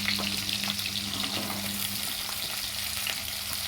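Shallots, whole garlic, curry leaves and green chillies fry in oil for a tamarind curry with cowpeas and bottle gourd, a constant close sizzle with light crackles and faint stirring.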